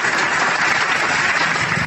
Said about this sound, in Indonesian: Saya harus tepuk tangan dulu.